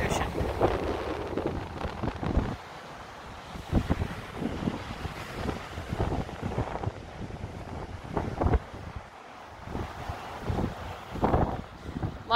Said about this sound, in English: cold wind coming off that ocean